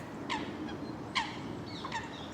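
Waterfowl calling at a London park, three short honking calls spaced about a second apart over a steady outdoor background hum, fairly faint and at a moderate distance.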